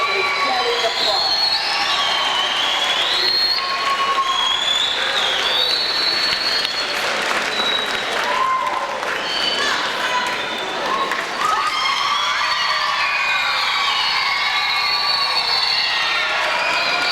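Loud, energetic applause in an elementary school gathering, children clapping steadily while whoops, shouts and shrill cheers rise and fall over the sustained clapping.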